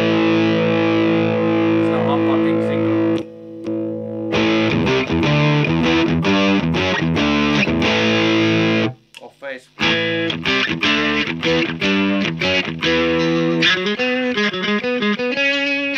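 An Ibanez Musician MC400 electric guitar on its bridge pickup with the active preamp on plays loud, distorted chords and riffs with effects, pausing briefly twice before continuing.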